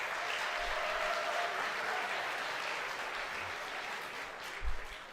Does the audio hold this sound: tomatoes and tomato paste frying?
no